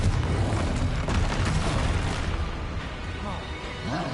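Confringo fire spells burst in rapid succession during Hogwarts Legacy combat, loud booming explosions layered over game effects, with a spoken voice calling out spells.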